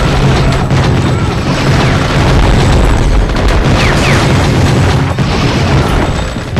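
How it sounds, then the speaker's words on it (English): Loud, dense, droning barrage of pistol gunfire from the PS2 game Gungrave, continuous booming shots blending into a constant wall of noise with little else audible. "the overpowered and droning pistol shots drown out almost everything else"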